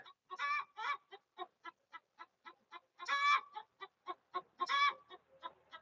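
A hen clucks repeatedly after her egg is taken, with short rhythmic clucks broken by three louder, drawn-out squawking calls, close and clear with no talk.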